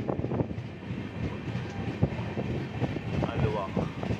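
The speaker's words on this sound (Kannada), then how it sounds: "ಸೊ 1 ಮಿನಿಟ್ ಸ್ಟಾಪ್ ಆದಮೇಲೆ ನಮ್ಮ ಟ್ರೈನ್ ಆಲ್ವಾ ಸ್ಟೇಷನಿಂದ ಓಡ್ತಾ ಇದೆ" A Garib Rath superfast train pulling out of Aluva station, heard from aboard as a steady rumble with rhythmic wheel clatter and clunks, with voices talking over it.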